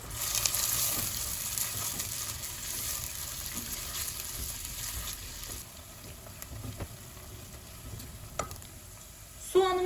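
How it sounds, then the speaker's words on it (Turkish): Onions sizzle steadily in hot olive oil in a pan over medium heat, a soft continuous crackle with occasional light stirring clicks and no one speaking. "Soğanımızı orta ateşte pembeleşinceye kadar kavuruyoruz."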